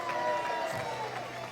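Crowd cheering for New Zealand at the Glasgow 2014 Commonwealth Games: a steady, broad wash of many voices and cheers that fills the whole moment at an even, moderate level.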